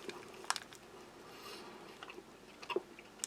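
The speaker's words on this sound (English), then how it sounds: "You can feel the crunch of sugar. There are sugar grains in there. You can feel them crunching between your teeth." Biting and chewing a soft, powdery French army ration coffee energy bar with sugar grains in it, giving faint close crunches and squishy chews scattered over a quiet background.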